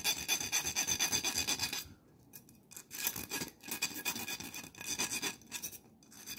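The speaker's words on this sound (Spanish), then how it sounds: "Vamos a limar un poquito acá también para sacar cualquier rebaba que nos pueda molestar." A metal file rasps burrs off a homemade bottlecap fishing lure in close, rough strokes, a long continuous scrape, a pause, then several shorter bursts of filing.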